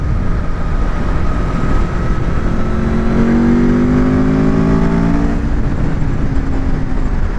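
An Aprilia Tuono V4 motorcycle accelerating under a rider, engine pitch climbing steadily through the revs over constant loud wind rush, then easing off toward the end.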